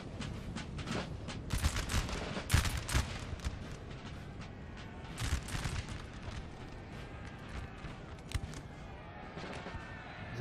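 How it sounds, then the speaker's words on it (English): Musket volleys crack out from Napoleonic guard infantry in a Napoleon: Total War battle, sharp rolling bursts of massed gunfire clustered early, then scattered distant shots under battlefield din. "2 volleys from the guard, and they're out of here."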